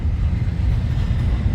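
A Weaver U25B model locomotive runs along its track with a steady, close, low rumble that holds at an even level throughout, with no voices.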